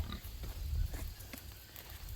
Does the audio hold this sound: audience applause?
no